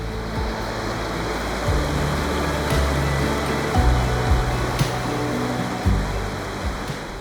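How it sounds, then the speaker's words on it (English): A waterfall in the Black Forest pours in a loud, continuous rushing roar close by, with low water rumble beneath and no voices. "And right here is the waterfall."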